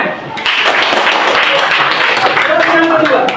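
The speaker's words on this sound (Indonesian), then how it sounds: "Baik, bagus. Tepuk tangan." Classroom students clapping together, a dense burst of applause starting after a short pause and continuing steadily at close range, with some voices mixed in.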